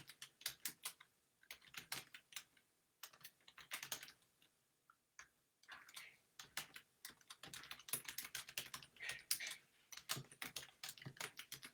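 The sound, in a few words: typing a quote on a computer keyboard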